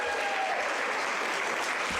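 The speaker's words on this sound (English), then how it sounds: "So big round of applause to all of these people." A church congregation at an Easter-season service gives a big round of applause to recently joined members, a dense and continuous wash of clapping that fills the room evenly from start to end.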